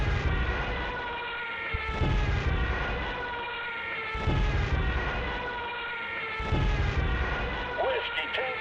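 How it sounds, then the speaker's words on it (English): In the Shadow Empire strategy game, a squadron of warplanes drones loudly on a strike, the steady engine roar pulsing in waves about every two seconds with dull thumps at each surge. "Go in with all the planes."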